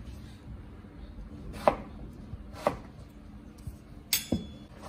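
A knife chops eggplant on a cutting board in a home kitchen, with three or four separate sharp thuds spaced about a second apart, close and fairly loud, with no talking.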